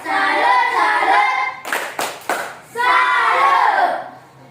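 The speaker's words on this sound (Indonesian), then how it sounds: "silakan kasih lagi tepuk salut" A classroom group gives the rhythmic "tepuk salut" clap chant, with a short burst of several sharp, synchronized claps between stretches of loud voices chanting in unison.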